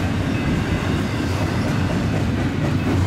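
A heavy Union Pacific freight train rumbles past close by, steady and loud throughout, with a continuous low roar and faint rhythmic clatter of wheels on rails.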